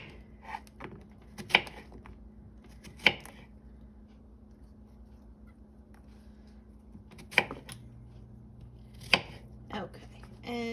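A knife chops thin, even zucchini slices for a homemade quiche, giving a handful of sharp, separate thunks on a cutting board spread across a quiet kitchen with long gaps between strokes.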